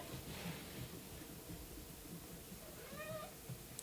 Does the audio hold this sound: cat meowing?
yes